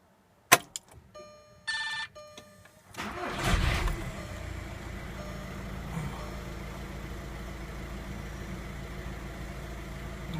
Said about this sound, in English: The car is pretty cold, so I already started it.